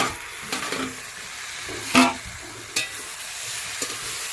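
Cabbage fries in a pan over a constant sizzle, broken by several sharp scraping stirs, one louder clatter near the middle, and no voices.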